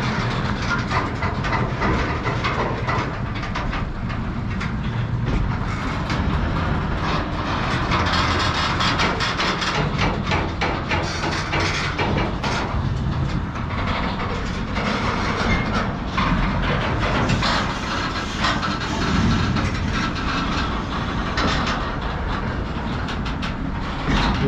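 A long freight train loaded with new cars rolls past close by, giving a loud continuous rumble and rattle with repeated clickety-clack from the wheels, steady throughout and without speech.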